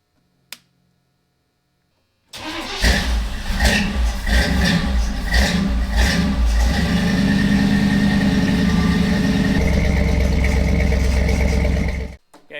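A 1970s Chevy shorty van engine cranks and fires up, then runs at a rough, loud idle with some revving for around ten seconds before cutting off.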